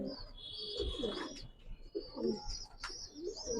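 Pigeons cooing at a Dhaka pigeon seller's stall, soft repeated low coos in a steady rhythm, close by, with higher chirps and a faint background hum mixed in.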